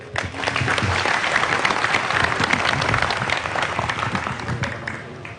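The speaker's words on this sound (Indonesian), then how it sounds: "Saya minta semua berguru mendengarkan, tepuk tangan untuk beliau." An audience at a Halal Bihalal gathering with Cak Nun bursts into sustained applause, dense clapping holding steady for several seconds before tapering slightly at the end.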